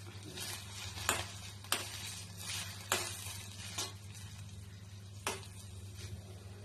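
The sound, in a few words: tomatoes frying in a pan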